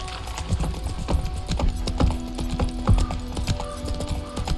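Roach, a horse in The Witcher 3, clip-clops along at a steady walking rhythm, hooves close and clear over a low ambient game backdrop.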